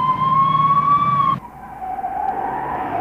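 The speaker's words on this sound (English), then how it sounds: "The flashing lights, together with the siren, tell other motorists to move out of the way and allow the police car to pass safely." Police car siren wailing loudly at close range in a steady high tone, then cutting off abruptly and giving way to a softer, lower siren sweep with traffic noise beneath.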